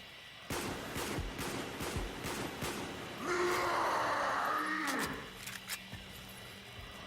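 Rapid bursts of gunfire from a weapon being emptied in the Call of the Dead zombies game, a run of sharp shots followed by a sustained noisy stretch, loud and close with a few scattered shots after.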